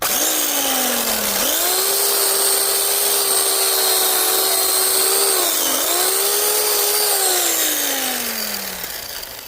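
A McCulloch Electramac EM 300S electric chainsaw with a dull chain whines at a steady high pitch, its motor pitch dipping twice as it bogs into the cut, then winding down at the end; loud and close.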